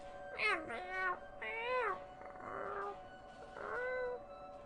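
A cat meows several times in a row in the video game Persona 5 Royal, drawn-out and plaintive, over a low steady hum.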